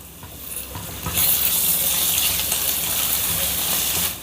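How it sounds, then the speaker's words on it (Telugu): Ginger garlic paste frying in a pan for tomato pulao, a close, steady hissing sizzle that surges louder after the first second and holds before easing at the end, with no voices. "ఇప్పుడు టీ స్పూన్ అల్లం వెల్లుల్లి పేస్ట్ ఈ అల్లం వెల్లుల్లి పేస్ట్ని పచ్చివాసన పోయేంత వరకు వేపుకుందాం"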